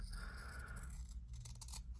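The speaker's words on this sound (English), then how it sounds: "I'm just going to trim that off with a pair of scissors" Sharp scissors snip away an overlapping edge of fabric on a slow-stitched Christmas advent calendar, giving a few soft, close crisp cuts over a quiet room.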